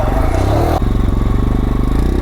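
A motorcycle rides off-road on a trail near Bangalore, its engine loud and close with a steady rhythmic chug and a drop in pitch partway through.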